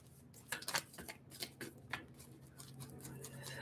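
Tarot cards shuffled by hand in a series of soft, crisp riffles and flutters, quiet and close, with a low steady hum underneath and no talking.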